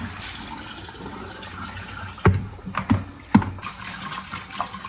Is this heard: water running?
yes